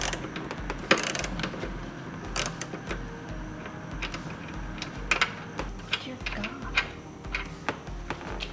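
Lug nuts being removed one by one from a Lexus ISF wheel, close metallic clicking and ratcheting with small clinks of nuts, irregular bursts under light background noise, with some talking.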